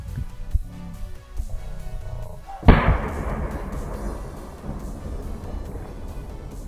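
One powerful firecracker blast in a hole in ice, very loud and close, followed by a long rushing wash of falling water and spray that slowly fades.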